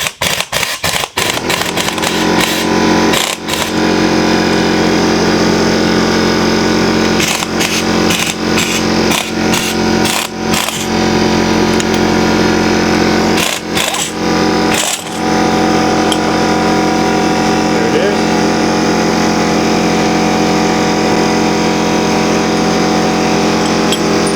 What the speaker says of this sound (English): we'll get my impact wrench. And remove it.